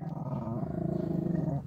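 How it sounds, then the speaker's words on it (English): A dog at a campground growls low and continuously at people passing by, close and loud, with only hints of barking and no talk over it. "he's going to bark at every freaking person that goes by"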